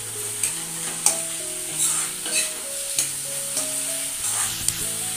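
Food fries in a pan over a gas flame for a sour fish curry, giving a steady hiss with occasional stirring clicks under fairly loud background music.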